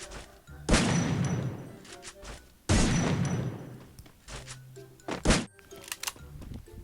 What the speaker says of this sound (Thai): ไปลองในโหมด โซนฟรีสไตล์ว่ะจะลั่นเร็วนะปืนเนี่ย